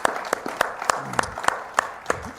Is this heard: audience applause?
yes